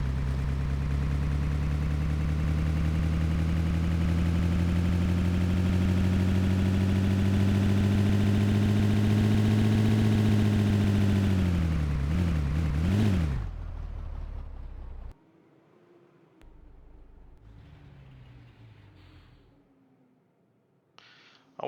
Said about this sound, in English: when you drive a half-track, what its engine sounds like